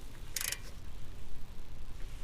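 A torque wrench set to 80 tightening Brembo brake caliper bolts on a BMW, one short sharp metallic click in an otherwise quiet workshop.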